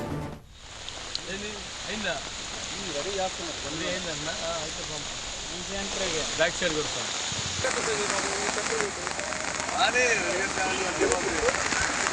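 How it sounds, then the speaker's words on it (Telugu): A constant, heavy rushing hiss of cyclone rain in Palnadu district, Andhra Pradesh, fills the background while a voice talks steadily over it. "వర్షాలు కురుస్తున్నాయి భారీ వానలకి వాగులు వంకలు పొంగి ప్రవహిస్తున్నాయి"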